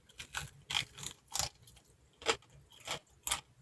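Crispy fried pork skin is crunched in a series of close, sharp bites, each brittle crackle spaced out in a steady chewing rhythm with quiet pauses between.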